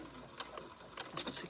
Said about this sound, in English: At the very beginning, you're going to want to back stitch